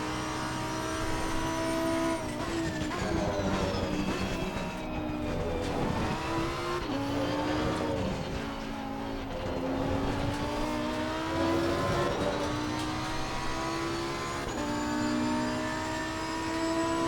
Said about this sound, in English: Love driving this Huracan.